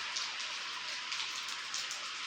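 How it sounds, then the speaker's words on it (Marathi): Steady rain patters on surfaces outdoors, a dense even hiss of countless drops with slight swells in intensity, continuous and fairly close throughout. "बघ की कसा पाऊस पड तरी सकाळपासून"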